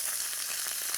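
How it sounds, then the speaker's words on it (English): Prawns flash-frying in hot oil in a pan for a stir-fry, a steady loud hissing sizzle close by with no talking. "Nice sizzle."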